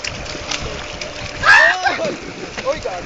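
A person jumps into water outdoors, making one loud splash midway through a short stretch of excited chatter and shouting from a group of friends.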